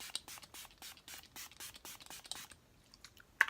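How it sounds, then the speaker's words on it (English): Catrice Prime and Fine Multi-Talent Fixing Spray misted in a series of short, close, hissing spray bursts in quick rhythm, followed by a few softer handling sounds. "Taking my Catrice Prime and Fine Multi-Talent Fixing Spray."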